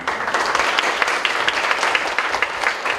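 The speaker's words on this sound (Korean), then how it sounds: "박수로 환영" A roomful of social-welfare workers at a disability rights training session applauds to welcome a guest speaker, with steady, busy clapping from many hands at moderate distance.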